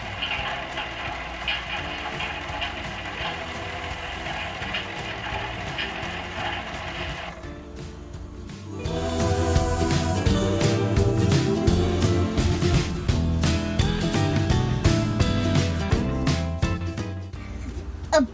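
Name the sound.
toy washing machine sounds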